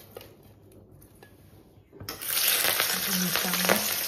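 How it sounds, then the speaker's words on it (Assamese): Freshwater fish frying in a pan: after two seconds of near quiet, a loud, steady sizzle and crackle suddenly starts and continues to the end, with faint voices underneath. "মাছ ভাজিম"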